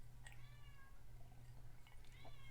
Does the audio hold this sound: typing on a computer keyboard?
no